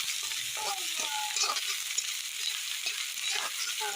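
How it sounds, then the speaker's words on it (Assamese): Onions frying in a pan for an Assamese pumpkin and fish curry, a steady bright sizzle running throughout with soft scraping stirs of a spatula against the pan, close and continuous with no talking. "পিঁয়াজখিনি ধুনীয়াকৈ ভাজা হৈছে, তাৰপিছত আদা নহৰুখিনি দিম।"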